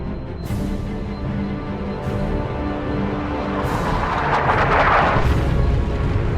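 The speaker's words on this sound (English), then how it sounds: "The traitors are laying down a barrage to soften us up." Artillery barrage in the Dawn of War 2: Chaos Rising video game, a sustained rumbling bombardment with repeated heavy booms rolling over each other and swelling louder toward the end, with no voices.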